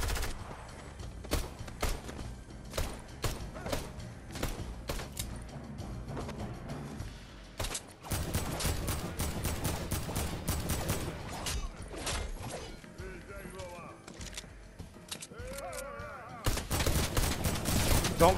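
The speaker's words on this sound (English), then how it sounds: "Somebody with a minigun tearing you up." Rapid minigun fire in a video game rattles in long dense bursts with brief gaps, loud and close, under occasional voices.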